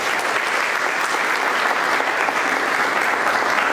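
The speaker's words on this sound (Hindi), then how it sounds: "एक बार हम तालियां बजाकर कार्यक्रम को करें" Audience clapping at a Hindi Diwas event in Kathmandu, dense and steady applause from a large crowd filling the whole moment, loud and continuous with no pause.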